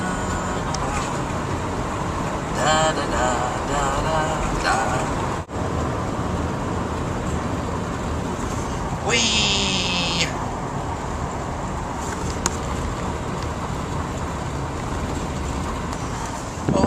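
Steady road traffic noise rumbles inside a moving vehicle, a constant low drone with wind, passing swells and brief thumps, while a man hums and lets out a cheerful exclamation over it.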